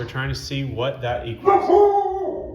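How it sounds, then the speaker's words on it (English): A dog in the house lets out howling, whimpering barks while a man explains math out loud. The dog's yips rise into a drawn-out howl near the end, heard under and after the speech. "Excuse my dog."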